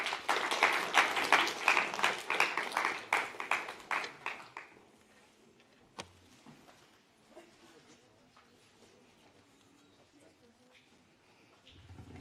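An audience applauding presenters at a Supreme Court Constitution Day event, loud sustained clapping for about four seconds that tapers into scattered claps and quiet room noise, with a few faint sounds after.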